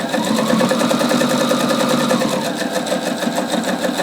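A sewing machine topstitches ponte knit fabric at a long stitch length with raised top tension, a steady, close, fast mechanical whir and rapid needle ticking that runs evenly throughout without talk.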